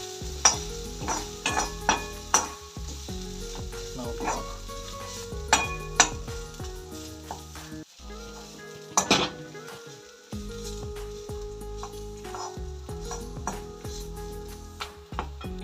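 Grated coconut fries in a pan for tomato bath, with a steady low sizzle and repeated scraping and clinking of a spoon stirring against the metal, close up.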